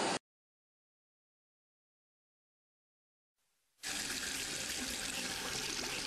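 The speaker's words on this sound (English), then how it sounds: "Do you know how much water is wasted by leaving the tap running" A kitchen tap gushes into a sink at a steady, loud rush, starting abruptly after a short burst and a long stretch of silence.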